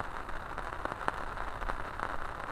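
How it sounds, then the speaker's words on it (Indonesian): Light rain patters steadily on an oil palm plantation, a soft even hiss broken by a few scattered sharper drops. "Harinya hujan lah, jadi kerasa dingin benar."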